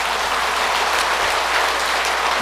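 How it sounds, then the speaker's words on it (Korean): An audience at a Buddhist dharma talk applauds with many hands in a dense, steady clapping that holds evenly throughout, with no voices. "박수 한번 쳐야지 그러면."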